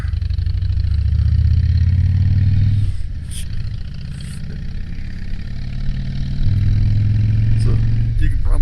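Motorcycle engine rumbling loudly through a neighborhood at night, steady low throb that swells and eases as the throttle changes, close to the rider throughout.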